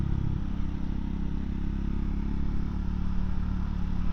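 Triumph Scrambler 400X motorcycle ridden lightly off-road, its small single engine droning steadily and close with a constant low rumble and wind noise throughout.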